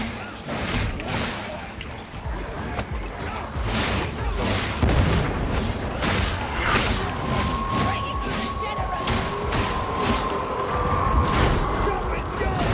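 A grenade detonates with a deep boom during a Warhammer 40,000: Darktide mission, amid a steady clatter of gunfire and game effects, with voices shouting over the action.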